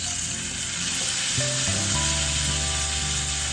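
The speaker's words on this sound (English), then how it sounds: "So we're gonna keep flipping this now" A NY strip steak sizzles steadily in a hot pan, loud and close, a continuous frying hiss with low thumps as the meat is flipped, no talking.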